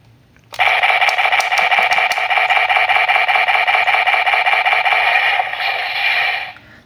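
A rapid, continuous electronic firing effect buzzes from the small speaker of a DX Ixa Calibur toy gun, loud and tinny, running for several seconds before cutting off.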